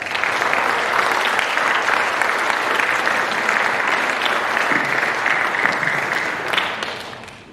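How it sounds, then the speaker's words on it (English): Audience applause fills a Phi Theta Kappa chapter induction ceremony, a steady, dense wash of clapping from many hands that holds evenly for about seven seconds before tapering off at the end. "Please give them a round of applause."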